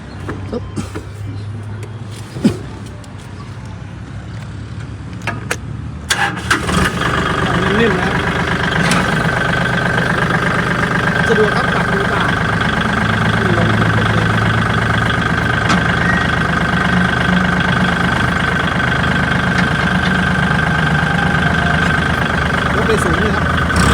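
A used L4018 tractor with a front loader fires up after a few clunks and settles into a loud, steady diesel idle nearby that runs on unchanged.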